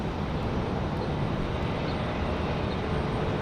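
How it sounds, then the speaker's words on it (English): An Icelandair Airbus A321neo LR at Raleigh-Durham airport, its engines making a steady, loud broadband roar that holds evenly throughout. "Got Iceland in the LR again tonight, the A321"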